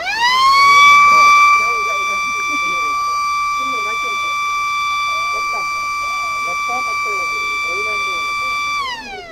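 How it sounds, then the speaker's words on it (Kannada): An automatic bird-scaring machine at an agricultural fair sounds a loud electronic siren through its speaker. The tone sweeps up, holds steady for several seconds and then drops away, with voices talking faintly underneath. "ಇವಾಗ ಸೈರನ್ ಸೌಂಡ್ ಬರುತ್ತೆ ಸರ್"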